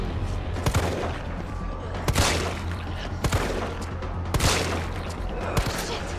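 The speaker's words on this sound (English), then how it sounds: "Please let me shoot the gun." Repeated gunshots from a gun in the video game Resident Evil 3, about five loud booming blasts at irregular intervals over a constant low game rumble.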